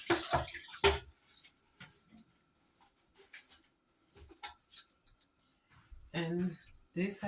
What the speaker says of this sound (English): I'm gonna drain the water from my collard greens.